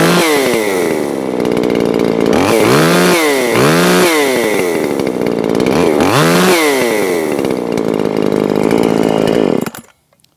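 A Makita 5600 Blue Top chainsaw with a muffler modification, timing and carburettor untouched, starting on its first run: a loud, steady two-stroke drone with several sharp revs up and back down, then a sudden cut-off near the end.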